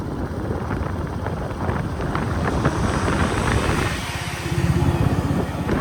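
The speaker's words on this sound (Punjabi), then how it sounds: "ਆਪਾਂ ਅਰਬ ਸਾਗਰ ਦੇ ਵਿਚਾਲ ਦੀ ਜਾਂਦੀ ਸੜਕ ਦੇ ਉੱਪਰ ਮੋਟਰਸਾਈਕਲ ਚਲਾ ਰਹੇ ਆ" Motorcycle ridden along a road across the Arabian Sea coast, with steady loud wind buffeting the microphone over a low engine drone throughout, no talking.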